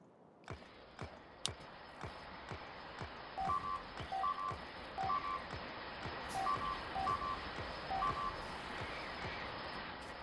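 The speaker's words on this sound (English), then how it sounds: "Yeah, you're gonna hear the beeping noise." Reversing beeps from the video game Factorio (Warptorio mod): repeated evenly spaced electronic beeps, moderately loud over a dense background of game noise with sharp impacts, with no talking.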